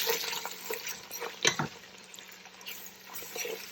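Onions, ginger and garlic stirred in a pan, soft scraping and wet sizzling with one sharper clatter from the spoon, fairly quiet and close.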